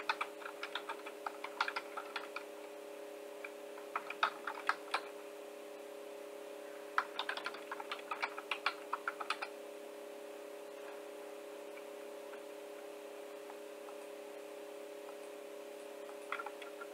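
Keys on a computer keyboard are tapped in short, quiet bursts while a Linux terminal command is entered in a virtual machine, with pauses between clusters over a steady low hum.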